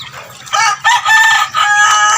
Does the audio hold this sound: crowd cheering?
no